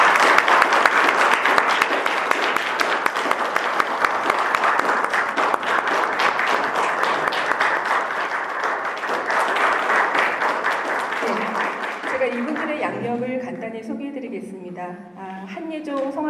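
Audience applause welcoming performers at a Korea University concert, a long, dense stretch of clapping that fades out as a singing voice and piano-like tones take over near the end.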